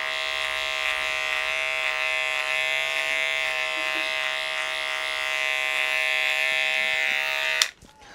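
An electric hair clipper cutting a skin fade hums in a steady, close, high buzz for several seconds, then stops abruptly with a short clatter.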